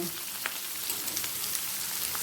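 Chopped onion fries in a pan with garam masala and other spices, a continuous close sizzle dotted with small pops and crackles, with no voices.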